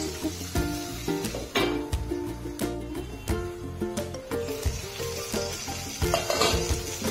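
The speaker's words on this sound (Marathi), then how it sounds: "तेलात एक थोडी परतून घेऊया आपण, म्हणजे छान चव येते।" Stuffed eggplants frying in oil in a pan, a loud close sizzle punctuated by repeated clanks and scrapes of a spoon stirring against the vessel.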